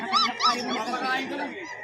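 A German Shepherd at a busy pet market gives a couple of short, high barks or yelps near the start, followed by crowd chatter and voices filling the rest.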